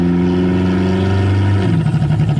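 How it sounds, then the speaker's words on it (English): A turbocharged Toyota Camry engine drones steadily on the road at mild throttle, loud and close, then its pitch shifts partway through as the turbo spools and the engine builds power. "It's like that turbo spools and it just starts making power"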